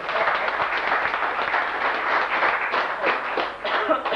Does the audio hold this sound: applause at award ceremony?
yes